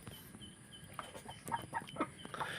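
A rooster clucks in a few short, close calls that grow more frequent toward the end, against a quiet outdoor background.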